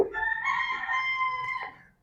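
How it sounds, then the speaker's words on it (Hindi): A rooster crows once, close and loud. The long, drawn-out call fades at the end, with no one talking. "ये मुर्गा डेली बोलता है"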